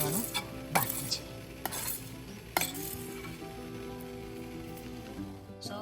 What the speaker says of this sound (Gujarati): વઘાર મૂકી દીધો છે